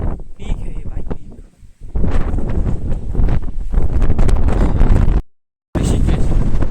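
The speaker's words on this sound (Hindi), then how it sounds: "ये देखो इतनी हवा चल रही है" Strong wind on a hilltop at Rishikesh roars and buffets the microphone in a loud, continuous rush with a brief dropout near the end, and a voice seems to be mixed in.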